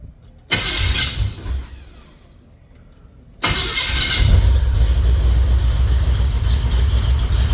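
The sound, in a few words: 1970 Chevrolet Nova engine starting and running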